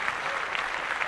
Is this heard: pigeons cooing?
no